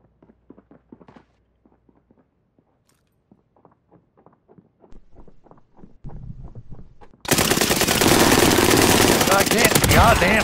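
Quiet footsteps and soft clicks in a video game build up, then sustained rapid gunfire erupts, loud, dense and continuous, right up to the end.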